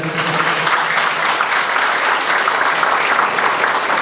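A concert-hall audience at a folk album launch night gives strong, sustained applause, a loud, even roar of many hands clapping with no voices standing out.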